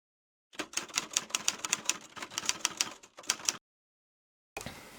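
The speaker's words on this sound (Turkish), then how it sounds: "Gelin birlikte kutusunu açalım." Packaging of a 44 mm Apple Watch Series 5 being handled and opened, a close burst of crisp rapid clicks and rustles, then a pause of silence before a short scrape.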